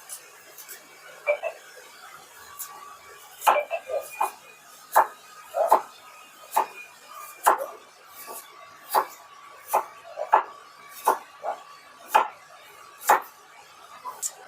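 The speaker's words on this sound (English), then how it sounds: "Now she's going to cut the onion." A knife chops an onion on a cutting board aboard a Kerala houseboat in Alleppey, giving a steady run of crisp close taps about every half second with light scraping between strokes and no talk.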